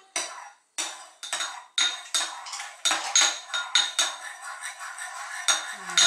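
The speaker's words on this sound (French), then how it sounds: "Je touille." A spoon stirs cream into a pot of blanquette de veau, giving a string of clear metallic clinks and scrapes against the pot in an irregular rhythm, close and fairly quiet, with no talking.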